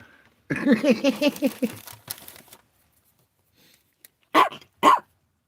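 After a stretch of people talking, a dog lets out two sharp, loud barks in quick succession, close by, with a short pause between them.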